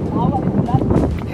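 Gusty wind rumbles and buffets the microphone throughout, with muffled voices faintly underneath.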